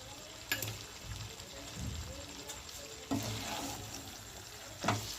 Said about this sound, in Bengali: আবারও আমি ভালোভাবে কষিয়ে নিচ্ছি।